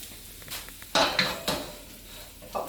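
Tomatoes, garlic and chorizo cooking in a paella pan, with soft sizzling under clinks and scrapes of a utensil against the metal pan, moderately close.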